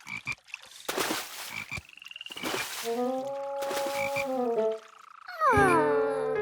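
Cartoon frogs croak in a bathtub, a run of loud, close, rhythmic croaks and throaty ribbits with whistling, wobbling tones, ending in a louder burst of layered croaking.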